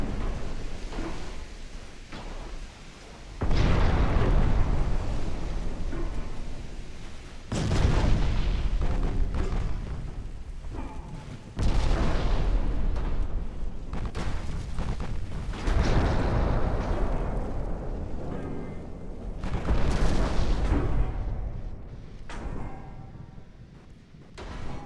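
Heavy naval guns thunder in the game Ultimate Admiral Dreadnoughts, with several deep booming salvos arriving in loud surges separated by rumbling lulls.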